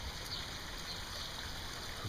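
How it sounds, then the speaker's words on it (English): A newly built backyard pond waterfall runs in a steady, continuous rush of splashing water, even and unbroken throughout. "New waterfall."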